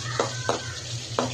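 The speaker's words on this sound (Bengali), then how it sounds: "পুঁই শাক রান্নার জন্য বাগান দিচ্ছি 2 গ্রাম তেল আর রসুন।" Garlic sizzles in hot oil, being tempered for a Bengali dish of Malabar spinach with lentils, a steady close frying hiss broken by three brief scraping stirs of a spoon.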